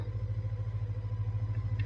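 A 30-year-old Honda motorcycle engine idles steadily, a low, even, pulsing rumble that stays close and continuous with no talking over it.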